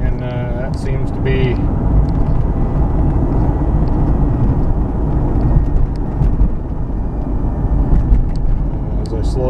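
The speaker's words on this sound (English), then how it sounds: "It's definitely a high, it seems almost a higher pitch whirring noise." A 2001 Ford Explorer cruising at about 40 mph gives off a steady high-pitched whir layered over broad road and engine rumble, loud and continuous throughout.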